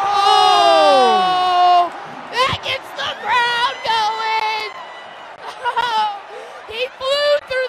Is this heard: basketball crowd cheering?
yes